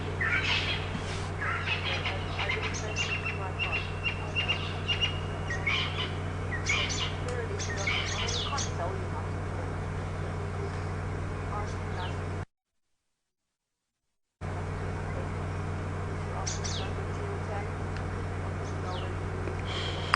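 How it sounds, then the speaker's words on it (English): An evening bird chorus at sunset on a safari at Djuma Game Reserve, with noisy crested francolins among many birds chirping and calling at a distance, steady over a low engine hum with a brief gap of silence. "there's the sort of evening cacophony of birds that are calling, and one of the most noisy ones we're hearing are the crested francolins"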